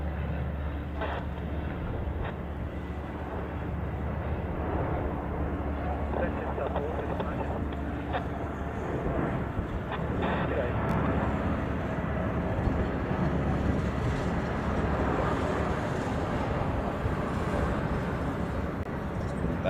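A Jetstar airliner taxis at Honolulu airport, its engines a steady distant roar with broad rumble and hiss, while someone talks over it throughout.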